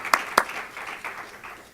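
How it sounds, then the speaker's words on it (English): An audience at a Caribbean diaspora gathering gives a brief, thin round of applause for the evening's contestants, with two sharp claps up front before the sound thins out quickly. "Let's give them a round of applause."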